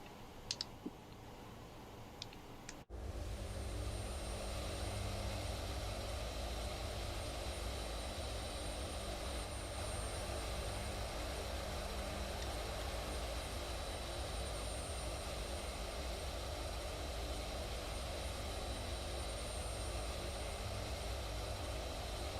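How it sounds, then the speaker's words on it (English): Steady, loud roar of a jet engine in a flight simulator game while flying a Hercules over Indonesian islands, starting abruptly after a few seconds of quieter clicking and continuing unbroken, with no talking. "God, my afterburner keeps trying to kick on."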